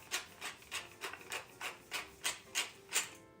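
Black pepper ground with a hand pepper mill for meatballs, about ten evenly spaced rasping twists in a regular rhythm, close and fairly quiet, with no one speaking.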